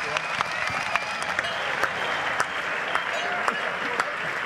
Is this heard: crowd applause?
yes